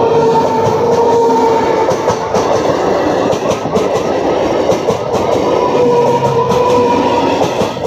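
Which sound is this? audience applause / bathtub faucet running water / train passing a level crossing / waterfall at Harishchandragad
train passing a level crossing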